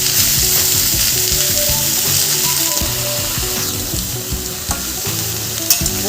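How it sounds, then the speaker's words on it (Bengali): Ridge gourd and pumpkin sizzle steadily as they are stir-fried in a pan, with a continuous loud frying hiss under repeated scraping and clattering of a spatula tossing the vegetables. "সবজিগুলোকে ভালো করে উপর নিচ করে নিতে হবে।"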